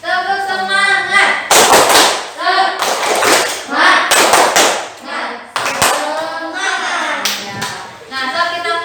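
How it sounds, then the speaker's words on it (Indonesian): Classroom students perform a rhythmic tepuk semangat clapping cheer, loud group claps in patterned bursts mixed with children's chanting voices close by. "kita tepuk semangat dulu"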